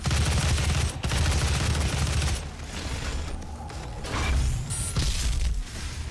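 Rapid automatic gunfire from the video game Doom 2016 rattles in sustained bursts mixed with mechanical clanks, loud and close, with brief pauses between volleys.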